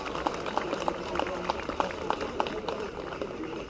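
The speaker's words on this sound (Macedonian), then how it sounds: "И неа да ја поздравиме со аплауз" An audience at a public gathering in Skopje, Macedonia applauds with steady, rhythmic group clapping, while a voice carries on beneath the claps throughout.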